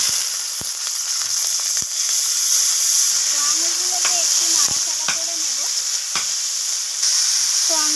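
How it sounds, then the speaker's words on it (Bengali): Grapes fry in hot oil with dried chili and panch phoron for a sweet-sour chutney, giving a loud continuous hissing sizzle with occasional sharp pops and stirring clicks. "তো আঙুরটাকে একটু নাড়াচাড়া করে আমি ভেজে নিয়েছি।"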